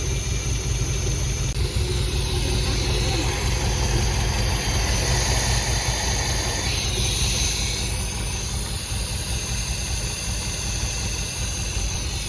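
A 1973 MGB engine, back after sitting for 20 years, idles steadily while warming up before carburetor tuning, a loud continuous close rumble with slight wavering and no voices.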